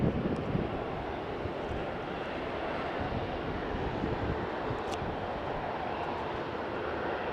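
An Embraer E195 airliner flown by Portugália for TAP Portugal at Faro Airport gives a steady, loud engine roar that holds evenly throughout, with some wind rumble and no voices.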